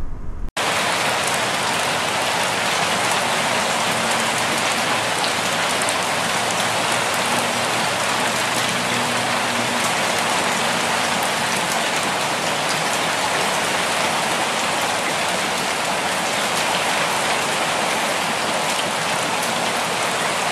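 Steady rain pours down outdoors, a dense continuous hiss of drops on surfaces holding level and fairly loud for the whole stretch, with no voices.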